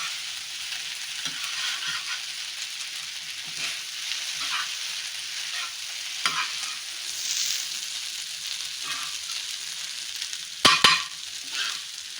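Noodles are stirred into a frying omelette mixture, with a constant soft sizzle broken by faint stirring scrapes and a brief louder clatter near the end.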